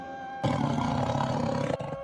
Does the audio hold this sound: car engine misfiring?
no